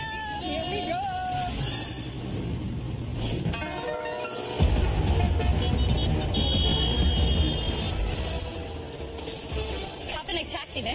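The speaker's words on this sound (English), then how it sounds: "There's a ton of traffic." Dense city traffic on a busy street in Ho Chi Minh City, Vietnam, heard from a taxi ride: a steady roar of engines with horn-like tones and beeps over it, with voices talking throughout.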